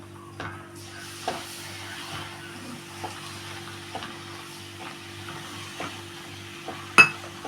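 A spoon stirs milk into milk powder in a glass or bowl, giving soft repeated scraping strokes at a steady rhythm, with one sharper clink near the end over a faint steady background hum.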